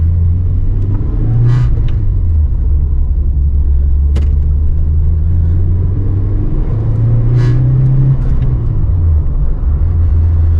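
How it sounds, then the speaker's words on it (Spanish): A warmed-up 1991 Ford Fiesta RS Turbo engine runs loudly with a deep, steady rumble inside the cabin, rising briefly in pitch as it revs, with road noise over a bumpy road and no speech. "quiero que escuchéis el motor"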